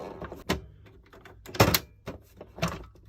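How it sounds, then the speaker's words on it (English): The cassette tape door of a vintage Toshiba RT-6016 boombox is opened by hand, giving a series of close plastic clicks and sharp clunks spaced unevenly over about three seconds. "Sometimes you have to open the tape door before the front panel will come off."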